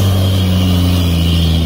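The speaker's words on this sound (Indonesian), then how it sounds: "kita lihat ini kendaraan-kendaraan yang mengantar material trailer untuk paku bumi ke lokasi segmen 5A" Trailer trucks delivering piling materials to a toll road construction site drone loudly and close by, their engines holding a steady, heavy hum that sounds like idling or slow running.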